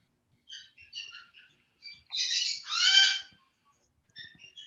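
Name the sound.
birds calling in the background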